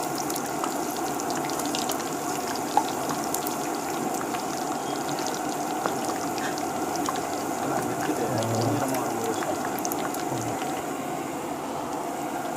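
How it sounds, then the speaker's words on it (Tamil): Bread slices deep-frying in hot oil for a bread halwa, a steady soft bubbling sizzle with faint crackles, close and continuous, with no voices. "இப்போ வந்து ஒரு 2 ப்ரெட்டாக போட்டு 3 போட்டு பொரிச்சி எடுத்துக்கலாம்"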